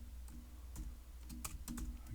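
Close, quiet keystrokes on a computer keyboard tap out an irregular rhythm of light clicks over a low steady hum.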